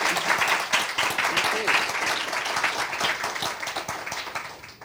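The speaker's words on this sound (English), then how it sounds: "A warm round of applause would be lovely." An audience at a university alumni panel claps in a steady round of applause lasting several seconds, with a voice speaking over it.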